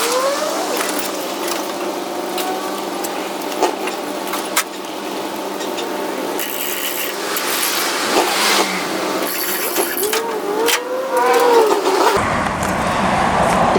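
A belt-driven DR wood chipper runs continuously close by, its steady engine drone overlaid with clattering and scraping as limbs are fed in and shredded.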